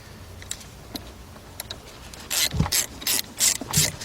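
A ratchet clicks in quick bursts while loosening the nut on the negative battery terminal of a 1993 Nissan Altima, with faint scattered ticks first and then several louder, close ratcheting runs.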